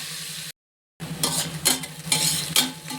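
Onions frying in oil in a pan toward golden brown for a vegetable biryani, a close sizzle broken by loud spatula stirring and scraping strokes, with one brief silent gap early on and no talking.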